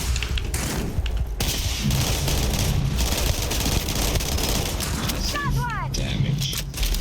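Kodomo submachine gun in Starfield firing in rapid bursts of gunfire, fairly loud and continuous, with a voice talking over parts of it.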